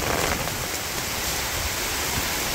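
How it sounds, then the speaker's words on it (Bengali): Heavy rain pours down steadily during a village rainstorm with strong wind. It is a dense, continuous hiss with no voices. "ঝড় বৃষ্টি শুরু হয়ে গেছে"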